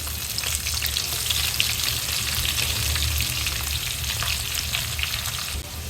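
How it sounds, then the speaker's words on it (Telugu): Chopped onions and cashews sizzle and fry steadily in a hot pan of oil while cooking prawn pulao, a dense continuous crackle that stays close and even throughout with no voices. "ఈ ఉల్లిపాయలు గోల్డెన్ కలర్ వచ్చేంత వరకు ఫ్రై చేసుకోవాలి"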